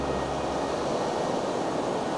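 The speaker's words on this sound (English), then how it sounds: "I'll wait again for the waves to come in." Steady broadband wash of ocean surf rolling onto a beach during a landscape shoot outdoors, continuous and fairly loud with a low rumble, no speech.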